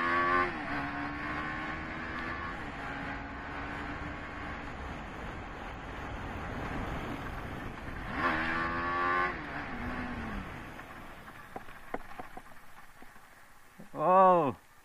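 A TVS Apache RR 310 motorcycle accelerating hard on a gravel road, its engine note climbing through rising surges as the gears change, with a sharp rev burst near the end and a voice briefly audible.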